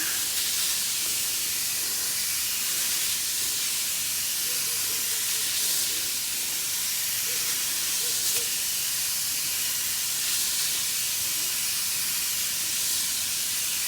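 Continuous hissing spray of insecticide in a garden, a steady, bright rush of pressurised mist that carries on loudly without a break for the whole stretch.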